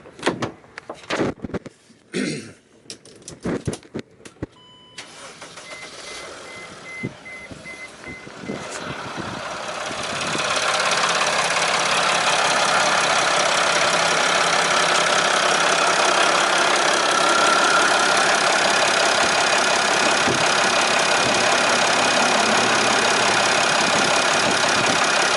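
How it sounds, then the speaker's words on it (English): A Sprinter van engine starts after some clicks and knocks, then settles into a steady, loud idle that continues unchanged for the rest of the clip. "Let me go ahead and start the engine."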